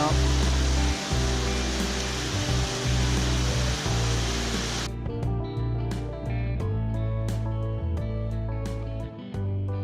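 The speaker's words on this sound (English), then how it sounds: "look at that cascading waterfalls" A mountain waterfall cascades along Silver Creek, a loud, steady broadband rush close by that cuts off abruptly halfway through, leaving a quieter background with scattered clicks and thumps.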